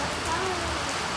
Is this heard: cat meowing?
no